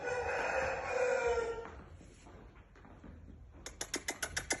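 A rooster crows loudly near the start, then after a short lull a quick series of sharp, evenly spaced clicks follows, with chicks nearby.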